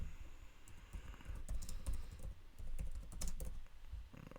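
Close-miked typing on a computer keyboard: quick, uneven bursts of soft clicks and key taps with brief pauses, fairly quiet overall.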